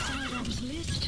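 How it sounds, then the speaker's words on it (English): D-Horse, the horse in Metal Gear Solid 5, gives a short, close whinny with a rising and falling pitch, with hooves clopping underneath and a voice talking over it. "I forgot D-Horse is here."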